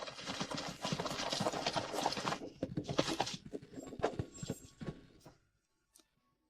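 Hooves of a ridden horse clip-clop in a quick, even rhythm that stays fairly close and loud for several seconds, then stop abruptly, leaving near silence with one faint tick.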